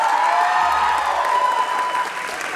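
An audience at a school jazz night claps for band soloists, a steady, moderately loud round of applause that fades slightly toward the end, with a sustained tone lingering faintly beneath it.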